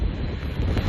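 Strong outdoor wind buffets the microphone in a loud, continuous low roar that rumbles throughout, with no voices.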